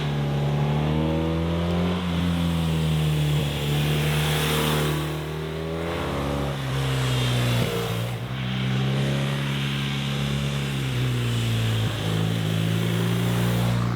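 A loud, close BMW R12 S motorcycle engine drone while riding, rising and falling in pitch through gear changes, with wind rush over the top and no talking.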